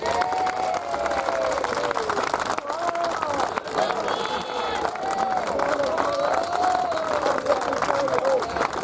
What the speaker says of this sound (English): So can we all give the boys a round of applause, please?